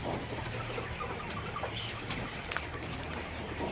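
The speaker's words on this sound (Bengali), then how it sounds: "সাড়ে পাঁচ হাজার মুরগি আছে এই জায়গায়" A faint, dense background of about 5,500 pullet layer chickens on a farm in Savar, Dhaka, clucking and chattering together, steady and distant, with no talk.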